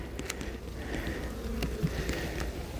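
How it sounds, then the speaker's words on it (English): Honeybees buzzing faintly around an open hive, a soft steady drone with occasional nearer passes and light ticking sounds. "they've got good population of bees here"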